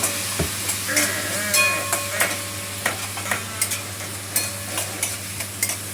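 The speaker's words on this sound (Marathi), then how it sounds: "कांदा परतून घेऊ." Chopped onion with salt sizzling in a pan while a spoon stirs it, a steady frying hiss broken by regular scraping knocks against the pan, close and alone.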